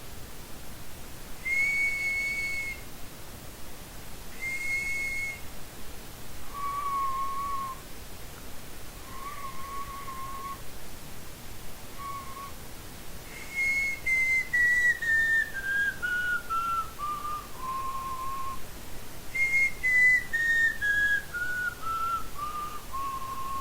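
Clear tonal palatal-style whistling: sustained single notes repeated, then long smooth descending glides, played alone against a faint steady hiss.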